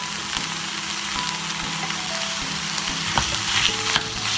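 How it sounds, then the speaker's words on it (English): Browned pork fries in a pan over an aromatic base for a Vietnamese dish, with a strong close sizzle and scraping stirs that peak in a few sharper clatters, no one speaking. "stir it around and let it cook until it's no longer pink"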